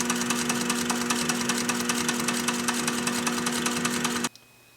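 A sewing machine stitches two pieces of car headliner fabric together for a patch on a Datsun 510 headliner, running in a steady rapid rhythmic whir with a hum for several seconds, then cutting off sharply.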